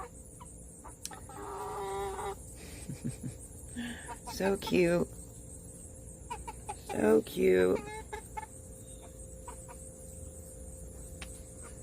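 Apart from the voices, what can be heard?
young chickens clucking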